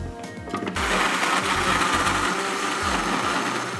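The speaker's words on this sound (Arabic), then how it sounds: "بعدين بدنا نحط الفواكه بالخلاط ونخلطهم شوي" An electric blender whirs up strawberries and kiwi for a milkshake, starting with a short low rumble before the motor jumps to a loud, steady high-speed churn that holds to the end.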